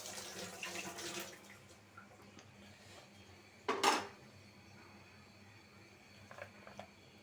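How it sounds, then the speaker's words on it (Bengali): A wok (kadai) set down on a kitchen stove, with one sharp metallic clatter in the middle amid faint running water and light dish clinks. "একটা কড়াই বসিয়ে দিই"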